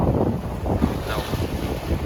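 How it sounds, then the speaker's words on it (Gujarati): Sea waves churn against an island shore in a continuous loud wash, buffeted by wind noise on the microphone. "હા હા આવા મોજા ઉકળતા હોય"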